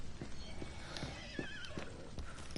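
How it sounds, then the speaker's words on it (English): A horse on fire in Far Cry 6 gives a loud whinny amid clip-clop hoofbeats, with rhythmic hoof strikes and a rising neigh over game ambience. "Oh, look, a horsey's on fire!"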